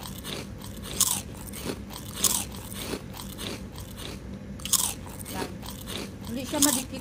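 Someone bites into fried adobo chicken feet, giving repeated sharp crunches about once a second with chewing in between, close to the mic.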